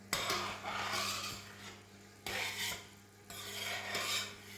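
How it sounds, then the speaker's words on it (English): A spoon stirs simmering French onion soup in a pot, scraping and rasping against the bottom in repeated sweeping strokes, close and clear with no talking. "I'm going to get a new spoon and I'm going to check on our French onion soup. Just give it a good stir."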